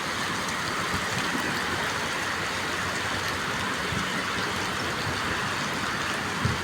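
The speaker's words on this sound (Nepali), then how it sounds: "अचानक पानी पर्यो के एकदम भारी वर्षा भइरहेछ" Heavy rain pours down steadily in Saudi Arabia, a loud, unbroken hiss of water close by with no pauses or changes in intensity.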